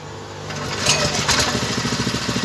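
A cheap welder generator's small engine catches and starts up, its rumble building from a low drone into a rapid, pulsing chug that grows louder and steadier near the end.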